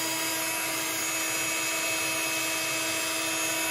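A heat gun blows steadily over a craft stamping project, melting embossing powder on a geometric background stamp; a continuous, fairly loud whir with broadband hiss holds evenly throughout with no pauses.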